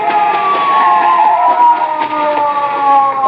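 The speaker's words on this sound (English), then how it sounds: "A police car." A police car siren wails steadily and loudly in an old 1950s radio drama, a continuous up-close tone sliding slowly downward with no voices over it.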